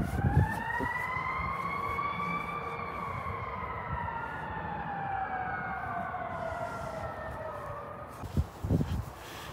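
Wailing sirens of an ambulance and fire truck sweep up and down continuously in a residential area, loud and fairly close, with a few knocks near the end.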